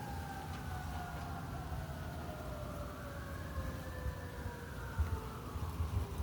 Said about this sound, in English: they throw the siren on top of it